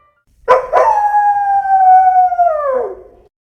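A dog standing by a car waiting on a dealership lot lets out one loud, close, sustained howl that holds steady for over two seconds before dipping and fading, following a couple of sharp yelps at the start.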